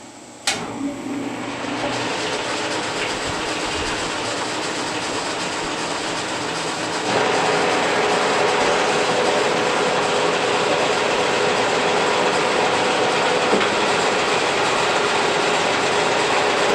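Machine tool spindle running with a rebuilt gear pump, a steady loud mechanical whir that starts with a click and then grows louder and fuller partway through, continuous and close.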